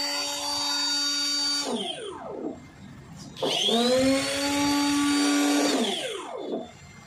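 A Kitchenery silent blender prototype running in automatic mode at 15,000 RPM, a loud steady motor whine that ramps down and back up twice, with clear pitch sweeps as it slows and restarts, and no talking.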